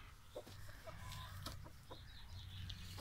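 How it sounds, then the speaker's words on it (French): Hens cluck and murmur softly nearby in a garden coop, a faint, low scatter of short calls over quiet background noise. "Les poules sont juste à côté."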